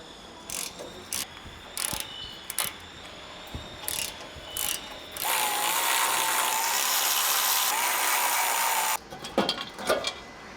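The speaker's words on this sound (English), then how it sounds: "There's gonna be 14mm bolts in there. We're gonna go ahead and take those out and pull off this crash bar." A ratchet works 14mm bolts loose from the crash bar of a Toyota 4Runner during a bumper install, with several bursts of clicking, a long continuous whirring run in the middle, then more clatter and clicks, close and alone.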